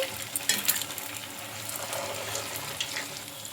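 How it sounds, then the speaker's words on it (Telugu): Pieces of food frying in a pan and being turned over, a steady soft sizzle with a few brighter crackles near the start and a faint clink toward the end, no voices. "ఇంకా మనం వీటిని అటు ఇటు తిప్పుకుంటూ మంచి కలర్ వచ్చే వరకు అయితే ఫ్రై చేసుకోవాలి"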